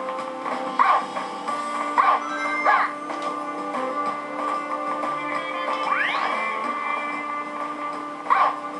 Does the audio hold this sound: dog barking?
yes